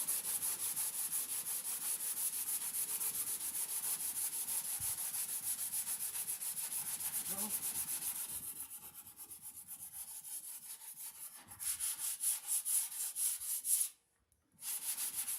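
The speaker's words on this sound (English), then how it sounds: "Alright, so I got my smaller sanding block here." Continuous scratchy rubbing of a small sanding block worked back and forth over car body filler on a Buick, steady and close, with a brief pause near the end.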